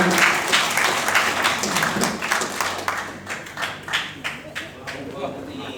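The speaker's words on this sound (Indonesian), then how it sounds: "Tepuk tangan semuanya" An audience applauds at the close of a talk on building an integrity zone, with steady dense clapping that thins into a few distinct claps near the end, and a voice heard faintly under it.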